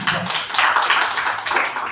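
An audience at a Hindi kavi sammelan poetry gathering in Palam, Delhi, claps for a poet, a brief, steady patter of many hands applauding together, fairly close and loud.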